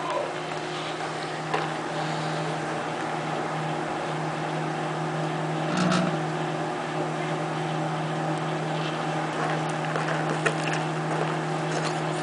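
A microwave oven runs with a cell phone burning inside, giving a steady low hum and drone with faint ticking and crackling throughout, and a brief louder pop near the middle.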